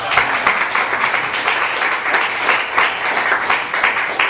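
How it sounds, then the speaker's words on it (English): Dense applause and a roaring crowd fill the Forum arena, loud and steady throughout with thick clapping and cheering and no clear speech. "The air was so dense with the roar of the crowd"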